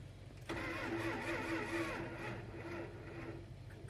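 The engine of a 1979 Dodge W150 Roundup that sat for over fifteen years cranks with a steady, close, labouring starter whir and rhythmic chug for several seconds, loud and without speech.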